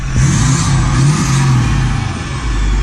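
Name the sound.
Ford F250 cab dump exhaust revving with turbo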